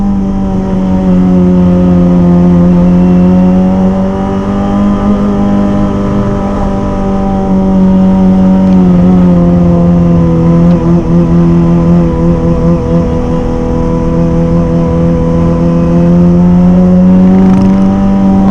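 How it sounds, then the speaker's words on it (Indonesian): A Kawasaki ZX25R motorcycle fitted with a Leovin aftermarket exhaust, a loud, close, high-pitched inline-four engine note held steady with slight rising and falling revs for the whole stretch, no talk. "kalau pakai knalpot Leovin ini, insya Allah nggak banyak yang terganggu dengan suaranya ya, karena suaranya menurut gua enak gitu, merdu guys"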